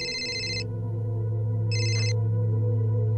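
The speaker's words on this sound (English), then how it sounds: "It's Ducky's phone. Should we pick up" A phone ringing with an electronic ringtone in two short bursts separated by a pause, loud and close over a steady low hum, with no talking.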